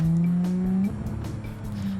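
A JDM sports car's engine drones in a BeamNG driving game, its pitch climbing steadily before a shift, then settling, with tire squeal and scrubbing noise layered close underneath.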